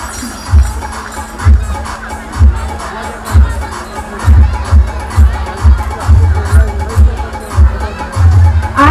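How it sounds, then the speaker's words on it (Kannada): Students cheer and shout as a crowd at a school anniversary day prize-giving in Shravanabelagola, with rhythmic thumps pulsing steadily through the noisy, sustained din. "ಎಲ್ಲ ವಿದ್ಯಾರ್ಥಿಗಳು ಚಪ್ಪಾಳೆ ಹಾಕಬೇಕು"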